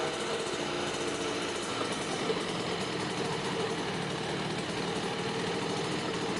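Kawasaki KX65 dirt bike engine idling after a top-end rebuild, a steady continuous two-stroke drone with an even buzzing texture held at a constant level throughout, close by and alone with no talk.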